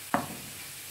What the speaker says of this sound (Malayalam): കടുകും ഉലുവയും പൊട്ടിച്ചു